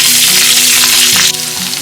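Loud, steady sizzling of something frying in hot oil, with a brief crackling burst near the end and no voices.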